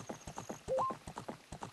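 A horse clip-clopping in the N64 game Ocarina of Time, a brisk, even run of hoofbeats heard close with a short higher tone partway through, no voices over it.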